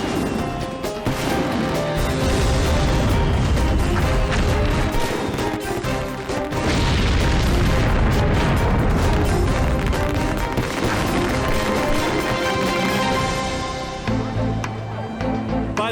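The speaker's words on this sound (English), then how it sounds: "Pyrotechnics shooting off in all directions, igniting adjacent fireworks stands." Fireworks stands burning in a fire send continuous crackling and popping explosions bursting in rapid, irregular succession, loud and chaotic, with occasional whistling streaks and heavier booms.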